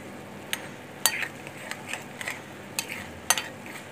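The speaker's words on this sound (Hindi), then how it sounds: "ये देखिए, अच्छे से हिला के देखते हैं" A spoon stirs ghee and mawa made from malai in a pan. It gives light, irregular scraping clinks against the metal over a faint, steady sizzle, close and quiet.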